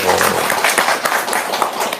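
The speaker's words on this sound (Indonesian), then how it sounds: "Tepuk tangan dong." Dense, steady applause from an audience at an Indonesian talk on wealth and blessings, close and loud for about two seconds with no pauses.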